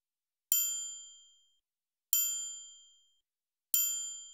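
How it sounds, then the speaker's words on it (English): A triangle percussion sample from an emo plugg beat rings out three times at even intervals, each a bright metallic ding decaying over about a second into silence. "A triangle perk for accents."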